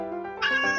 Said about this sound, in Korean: 하리는 고양이를 너무너무너무너무 좋아해요